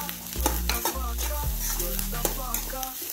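Ingredients including cloves frying in a pan, a continuous sizzle overlaid by brisk stirring scrapes and knocks of a spoon against the pan, with background music.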